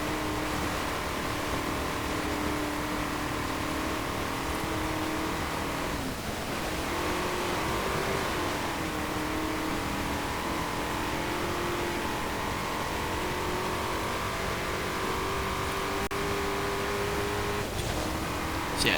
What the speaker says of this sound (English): I'll just let you listen to the engine for a little bit because it does sound really rather good.